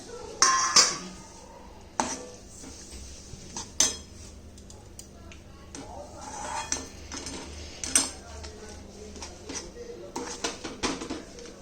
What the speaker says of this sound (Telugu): వేయించిన నువ్వుపప్పు వేసి కలుపుకోవాలి.